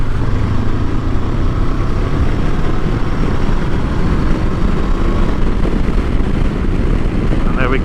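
A 2022 Honda CB500X motorcycle rolls on the throttle in 4th gear from about 30 mph, slightly downhill, its engine drone building steadily under heavy wind rumble, loud and continuous throughout.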